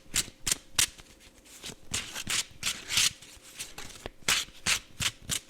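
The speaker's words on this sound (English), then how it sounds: "What tarot deck has the best sound when you shuffle it?" Tarot cards are shuffled repeatedly up close, crisp papery riffles and slaps coming in quick bursts about a second apart, with no talking.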